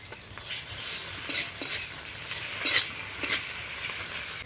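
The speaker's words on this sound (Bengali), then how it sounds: "এবারে দিয়ে দেবো আদা রসুন বাটা" Steady hiss of ginger-garlic paste frying with onions in a pan, broken by a few sharper scrapes and clinks of a spoon stirring against metal; no talking.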